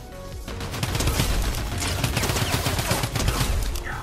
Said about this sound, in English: It's back. Welcome back. The drum gun chat.